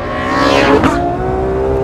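A Ferrari F12 on a race track at wide-open throttle, its engine note climbing in a loud, close, rising howl through the gears.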